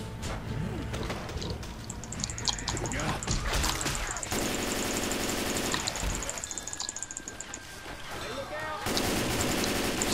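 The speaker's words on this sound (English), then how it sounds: "Just gonna rapid fire him" Rapid automatic gunfire from the co-op zombie shooter Left 4 Dead 2, sustained bursts with engine-like rumble and game effects dense throughout, with a player talking over it.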